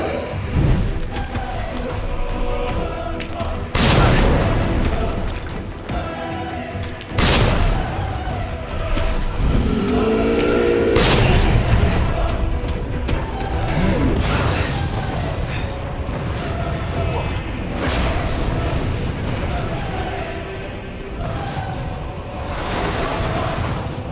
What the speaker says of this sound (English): Let's throw a normal grenade